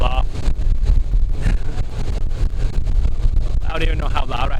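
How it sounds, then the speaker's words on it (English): Loud, constant wind buffeting the microphone, low rumbling roar throughout, with a voice briefly audible near the end. "I don't even know how loud I have to speak right now because it's so windy."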